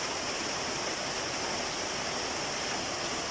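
Heavy rain pours down with rainwater running and overflowing, a dense, steady rushing hiss that holds even and unbroken throughout.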